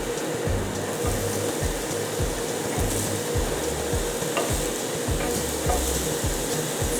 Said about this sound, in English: Let me get them on my piping hot grill here.